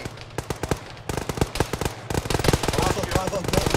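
Machine gun fire in the ArmA military game, with rapid sharp bursts that start sparse and grow into dense, continuous automatic fire, mixed with some distant shots and voices on the radio underneath.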